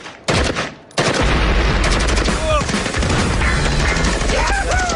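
Rapid fusillade of gunfire at an American shooting session, loud and dense after a brief opening burst, continuing steadily with sharp overlapping shots and a few voices underneath.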